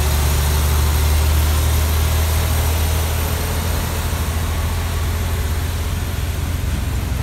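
A Fuso truck's diesel engine drones steadily on the road, a loud, constant low rumble with a deep hum and broad road noise that holds unbroken throughout, with no talking.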